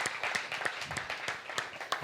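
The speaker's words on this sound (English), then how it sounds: "clap it up for yourselves for being here" A room full of people applauds, steady clapping filling the whole two seconds at moderate volume, with a few sharper individual claps rising above the crowd.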